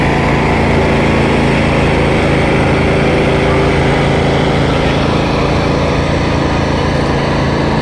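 A lawn mower engine droning loud and continuous at a small-town parade, with a constant high motor whine throughout.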